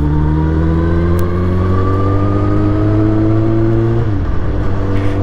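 Motorcycle engine running rough at a steady idle, a loud close drone that holds level before dipping and faltering near the end, with no talking.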